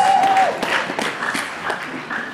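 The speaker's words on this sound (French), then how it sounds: "Au nom de Jésus, acclamons tous le Seigneur, il est notre Dieu" A church congregation claps and cheers together in a sustained burst of applause, dense and loud throughout, with a few voices rising through it.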